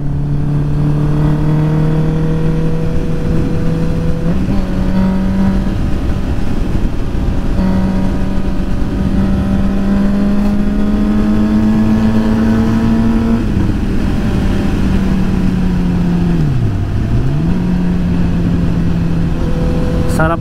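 A Honda CB motorcycle engine rumbles loudly and steadily at close range, with revs rising and falling across the ride and a brief dip near the end, on a road trip through Le Tréport, France.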